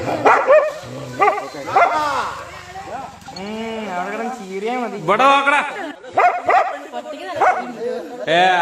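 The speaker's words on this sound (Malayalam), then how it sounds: "നായാണെങ്കിൽ കുരയോട് കുര." A dog barks repeatedly and loudly at a leopard caught in a trap, in bursts of close, harsh barking mixed with people talking nearby.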